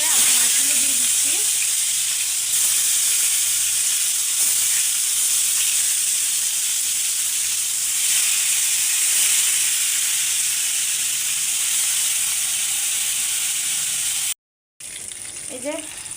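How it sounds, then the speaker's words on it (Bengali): Rohu fish pieces fry in hot oil with a loud, continuous hiss and sizzle held close for a long stretch, broken by a brief drop to silence near the end before the sizzling returns. "তেল গরম হয়ে গেছে, আমি মাছগুলো দিয়ে দিচ্ছি"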